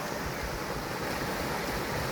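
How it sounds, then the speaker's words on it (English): A small waterfall in a Tuscan valley pours as a constant, even broadband rush, steady and close with no voices. "we have a very small pool, another small cascata, waterfall coming down here through the valley."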